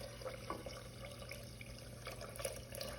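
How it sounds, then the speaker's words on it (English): Water pours into a heavy 4-quart stainless steel pot, a continuous splashing, gurgling flow with small clinks and drips, close and steady throughout. "And we are adding our water."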